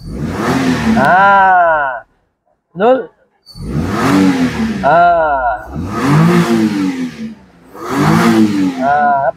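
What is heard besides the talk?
Perodua Viva 1.0 car engine revving after coil replacement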